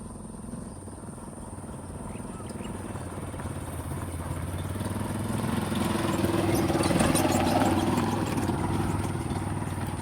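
A loaded Rusi Chariot motorcycle carrying cargo and passengers pulls away, its engine droning steadily and growing louder as it gets moving, with a rough rattle beneath the running noise and no talking.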